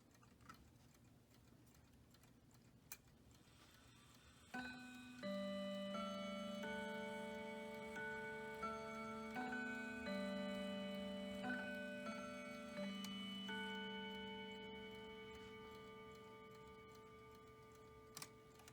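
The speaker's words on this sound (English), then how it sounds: "So let's do the Howard Miller timbre mantle clock." Howard Miller mantle clock with a steady, faint tick, joined after a few seconds by a sustained, ringing chime melody that carries on over the ticking.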